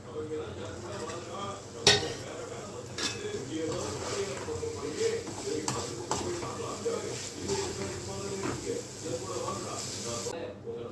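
A pot lid is lifted off dried anchovy (nethili karuvadu) thokku with one sharp metallic clank, followed by soft clinks and shuffling while a person talks in the background.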